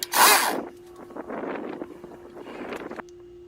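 A small outboard boat motor, just repaired, kicks over with a loud burst and then settles into a light, uneven running buzz with a steady hum underneath, ending abruptly.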